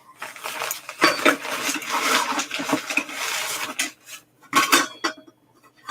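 A metal saucepan set is handled up close: pots clatter, scrape and clink against one another in uneven bursts, with short quiet gaps between the bouts of metallic rattling.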